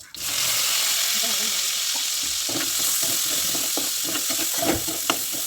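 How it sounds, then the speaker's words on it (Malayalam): Marinated chicken sizzles and fries steadily in a pan, a continuous hiss with scattered spattering pops and stirring scrapes building toward the end. "വേഗം തന്നെ ചിക്കൻ പൊരിച്ചെടുക്കുകയാണ്"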